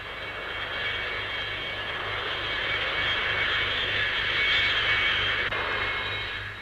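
Vickers Supermarine Swift jet fighters fly at a Farnborough air show, a steady, sustained jet roar that swells slightly and then eases, heard alone with no voices.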